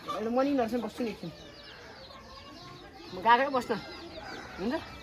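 Backyard hens on a village farm clucking in two close bursts of choppy, rising calls, with a quieter gap between them and a faint murmur of activity underneath.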